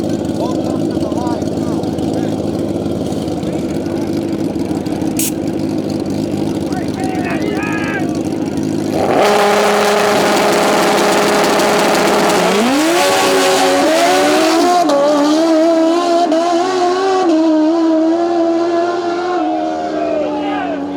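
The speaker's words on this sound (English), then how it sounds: "Mike just shaking a tire off the line" Drag racing motorcycles launch off the line, with loud engines revving and rising in pitch over a brief tire squeal, while an announcer's voice carries over the racket.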